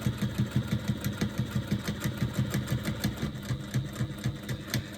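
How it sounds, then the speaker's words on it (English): Sewing machine stitching around the outside of a slip pocket on a lambda weave bag, a quick rhythmic needle thumping over a motor hum, close and steady with no talk. "I'm going to stitch all the way around the outside of my pocket"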